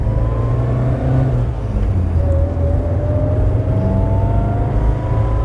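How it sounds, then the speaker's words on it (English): A Morris Marina accelerating on the road. Engine drone with a rising gearbox whine that climbs in pitch, heard from inside the car, continuous and fairly loud, with no talk. "Lovely whine from the gearbox. I do like that sound."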